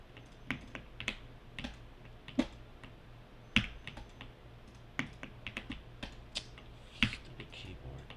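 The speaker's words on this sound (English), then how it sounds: "Stupid keyboard." Someone types on a computer keyboard at a modelling workstation, an irregular run of sharp clicks and key taps with a few louder strikes over a low steady hum.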